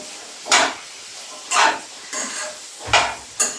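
Onions are sautéed in a pan for beef curry, with about five distinct bursts of spatula scraping and stirring at intervals over a low background sizzle, close and clear.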